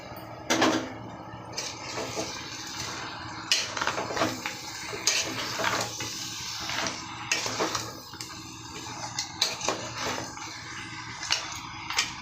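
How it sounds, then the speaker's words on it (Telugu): Goat head curry is stirred in a pot with a metal spoon, giving continuous close scraping and clattering with sharper knocks against the pot's sides throughout. "బాగా కలుపుకొని ఒక ఐదు నిమిషాలు మగ్గనిస్తామండి మధ్య మధ్యలో కలుపుకుంటా ఉండాలి"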